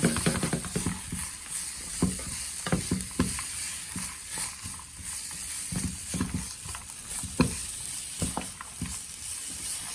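Cabbage, carrot and other vegetables are stirred and cooked in a pan for an Indo-Chinese hot and sour soup, a close sizzle punctuated by repeated scraping clatters of a utensil, with no voices.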